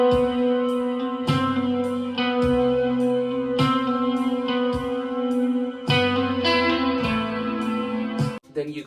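An electric guitar through effects plays the intro riff of a song live, repeating a ringing picked pattern with sustained, slightly distorted tones over a low bass figure, close and steady before ending in a brief noisy scrape.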